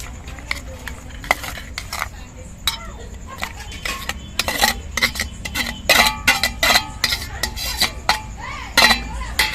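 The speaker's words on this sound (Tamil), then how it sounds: "முட்டையும் வெங்காயத்தையும் நல்லா மிக்ஸ் பண்ணியாச்சு" A utensil stirs beaten egg and chopped onion in a bowl, giving a brisk series of sharp clinks and taps against the sides that grows denser and louder toward the end.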